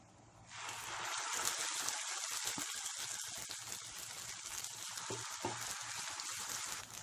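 Chutney hitting hot tempering oil with mustard seeds, curry leaves and dried red chillies erupts into a loud, steady sizzle after a quiet start, then crackles on without a break and with no talk.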